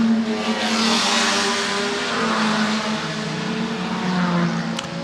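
Classic racing cars roar past at full speed during a high-speed demonstration at the Goodwood Revival, a loud sustained engine howl that swells and sweeps by with no talk.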